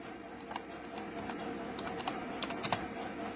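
Java code is typed on a computer keyboard, with a quiet, uneven run of close key clicks and a few sharper taps toward the end.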